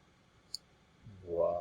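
A single crisp computer mouse click, short and fairly quiet, followed by the start of speech.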